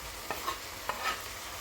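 Half-rings of sliced onion frying in a pan while being stirred, with a steady low sizzle and a few soft scraping strokes of the utensil, close and fairly quiet, no voices.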